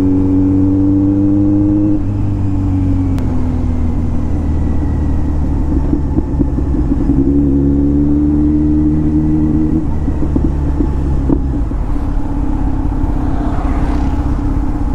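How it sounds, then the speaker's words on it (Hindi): Kawasaki Z900 motorcycle exhaust revving loud and close in repeated rising pulls between gear shifts, with crackling pops scattered through the roar over fifteen seconds. "क्या पॉप मार रही रे गाड़ी"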